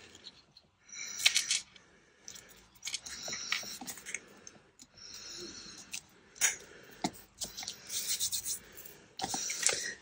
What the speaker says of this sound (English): I'm going to cut myself out two little pieces.